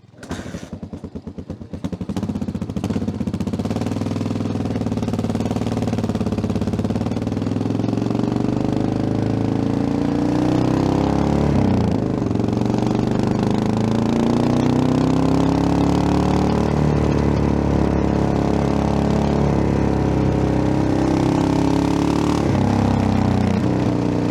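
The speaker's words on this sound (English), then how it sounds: "It's a kickstart only, but it's really easy. You just go to the right spot, tap it lightly and it will run." Yamaha XT600Z Ténéré motorcycle single-cylinder engine kickstarted and then running, a loud steady idle that continues throughout with slight rises and dips in pitch, close by.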